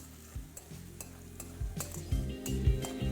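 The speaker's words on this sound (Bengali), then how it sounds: "যেটাকে আপনাদের ভালো করে একটু ভেজে নিতে হবে যাতে কাঁচা গন্ধটা একদম চলে যায়" Chopped ginger is stirred and fried in a pan for a moong dal dish. A soft, close sizzle runs under irregular scraping strokes and light clinks of a utensil against the pan. No one speaks.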